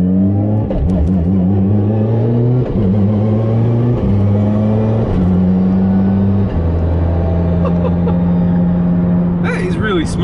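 A Mitsubishi Evo 10 street car with a Hollinger sequential gearbox revs hard while driving, loud and close from inside, climbing through several gear changes with short dips between pulls, then settling into a steady drone.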